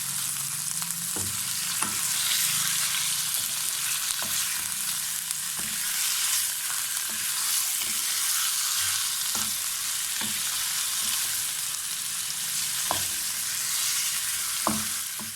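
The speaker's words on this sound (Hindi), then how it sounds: "चिकन को हमने 3 से 4 मिनट तक अच्छी तरह से भून लेना है" Chicken pieces fry in a pan for green chicken karahi, giving a steady close sizzle throughout with occasional sharp clinks and scrapes of stirring, no voices.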